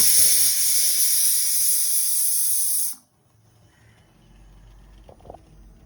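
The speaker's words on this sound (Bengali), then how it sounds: "ওদিকে দেখো ভাত ফুটছে" Steam hisses loudly and steadily from a pot of boiling rice for about three seconds, then cuts off abruptly, leaving quiet kitchen sounds with a few faint knocks.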